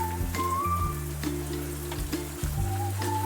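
Curry leaves sizzling in hot oil with fried onion and ginger-garlic paste, a steady sizzle under a humming tonal background with occasional light clatters.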